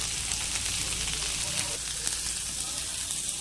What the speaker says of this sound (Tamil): பட்டை, லவங்கம், அப்புறம் சோம்பு போட்டிருக்கேன், அதுக்கப்புறம் ஆனியன் போட்டிருக்கேன், தாளிச்சிட்ருக்கேன்.